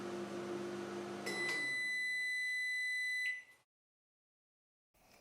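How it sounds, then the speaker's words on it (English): A microwave oven hums steadily, then a rapid cluster of bright electronic beeps rings out over the running noise before everything cuts to silence, with a faint sound returning at the very end. "Would you please go and get the microwave and the oven started?"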